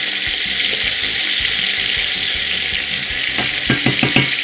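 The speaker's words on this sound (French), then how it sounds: "on va pouvoir rajouter le foie, que le foie va cuire très rapidement" Chicken liver sizzles loudly in a pan for a Réunion-style chicken curry with calabash and chayote, a constant bright hiss with stirring clatter toward the end.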